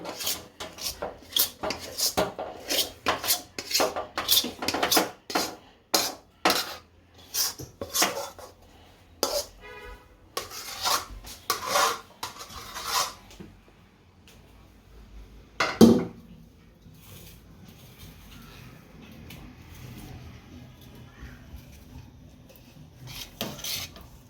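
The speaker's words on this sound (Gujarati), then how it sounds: "હવે આ થાળીમાં પાથરી દઈશું આપણે।" Sticky jaggery-and-peanut sing pak mixture being scraped and spread across a metal plate with a spoon: repeated close metallic scrapes and taps in a busy run, one sharp clang, then quieter rubbing.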